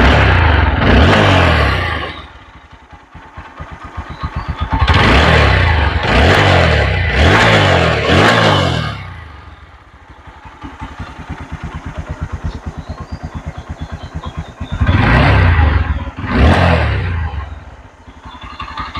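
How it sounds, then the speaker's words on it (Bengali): A TVS Apache RTR 4V 160cc double-disc motorcycle idles with a steady putter, then revs up hard in repeated loud bursts: several close together early on, and a final pair near the end. "এখন আমি আপনাদের দেখানোর চেষ্টা করবো স্টার্ট করে কি সাউন্ড রয়েছে ফোর বি গাড়িটার"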